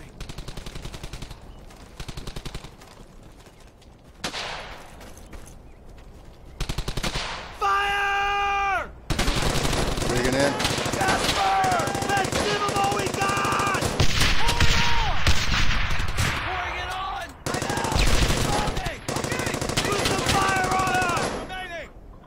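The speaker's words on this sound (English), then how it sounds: "My machine gun team there." Automatic weapon fire in a World War II–style glider infantry combat video game, rapid bursts and sustained rattling volleys up close, mixed with other in-game effects and talk throughout.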